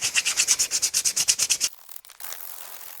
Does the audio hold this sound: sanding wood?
yes